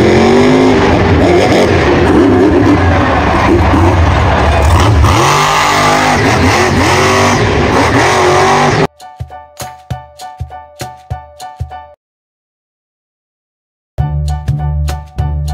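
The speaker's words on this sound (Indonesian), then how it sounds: "Ini adalah mobil monster," A toy-style monster truck engine roars and revs loudly for several seconds, then gives way to clipped, tonal synthetic sound bursts, a silence and a final burst.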